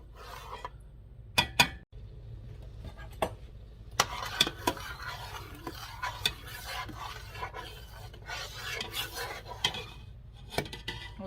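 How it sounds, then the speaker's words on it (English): A spoon scrapes and knocks against a pot while pineapple monkey butter jam boils and is stirred down, with sharp clinks and intermittent rasping strokes over a low bubbling background. "So see that it started and then I was able to stir it down."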